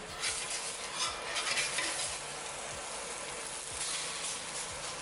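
A Korean green onion pancake sizzles in a hot pan as it is flipped, a steady bright frying hiss with soft scraping and a few brief pan knocks, no talking.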